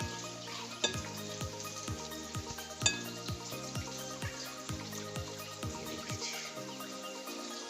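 Sliced eggplant and green chilies fry steadily in hot oil, a constant close sizzle broken by occasional sharp clinks of a utensil against the pan.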